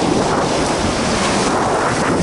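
Strong wind buffets the microphone on a beach by the Sea of Japan near Vladivostok, a loud, constant roar with surf mixed in and no voices.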